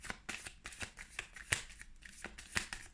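Rune cards are shuffled for a tarot-style reading, giving a run of crisp, papery riffling bursts repeating at an uneven rhythm, close and fairly quiet with no voices.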